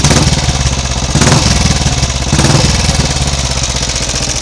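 A rebuilt Royal Enfield Bullet 350 single-cylinder motorcycle, fitted with a new piston and rings, runs steadily at idle with a dense, continuous throb that stays loud and close throughout, with no talking.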